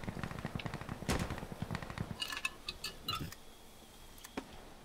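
Gunfire from a shotgun in the video game Insurgency Sandstorm: a loud burst of sharp shots in the first two seconds, then scattered, fainter reports and clicks, with no talking.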